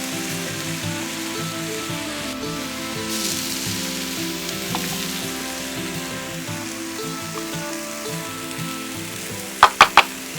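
Chicken and onions sizzle steadily in oil on a Blackstone griddle, a loud continuous hiss with a low hum behind it, and three quick metallic scrapes or taps from a spatula at the very end.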